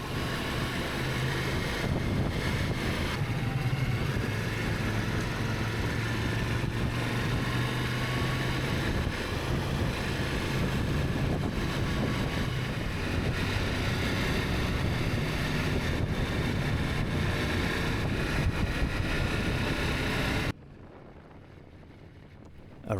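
Strong gusting wind buffets the microphone in Omis, Croatia, a loud, continuous roar with a low engine hum underneath, cutting abruptly to near quiet at the end.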